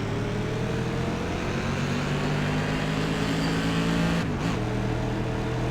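A race car on an oval with a spotter on the radio, its engine droning loud and steady from inside the cockpit, pitch holding level then dipping briefly before settling again.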